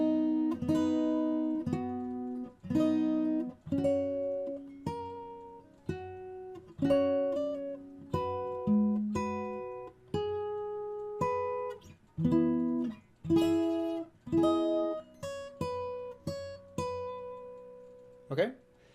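Fingerstyle acoustic guitar plays a passage of a song arrangement, with plucked notes and strummed chords in a bouncy rhythm over about nineteen seconds, close and clear, with no talking.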